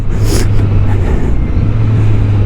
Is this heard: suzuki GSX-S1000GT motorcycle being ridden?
yes